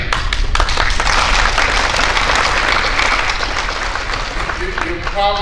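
An audience at an engineering hall of fame banquet bursts into sustained, loud applause that fades slightly toward the end, with talk surfacing beneath it.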